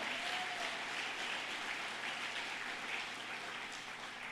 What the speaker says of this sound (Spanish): Fuerte ese aplauso al Rey